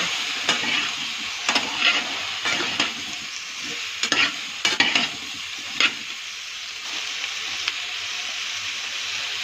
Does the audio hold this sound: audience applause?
no